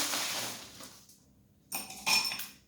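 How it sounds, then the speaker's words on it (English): Handmade crushed ice is spooned into a glass for a mint julep, giving a bright crunchy clatter that fades, then two short clinking bursts near the end, close and fairly quiet with no talking. "You fill in your glass with the crushed ice, and this is a handmade crushed ice"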